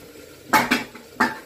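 A metal lid is set onto a pot of Jamaican oxtail stew, giving three sharp clanks, two close together and then one more, loud and near against a quiet background.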